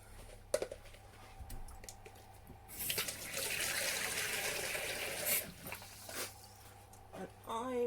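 Water poured from a jug into a baking dish of Greek giant beans, a steady splashing pour of about five seconds in a home kitchen, with small clinks before and after.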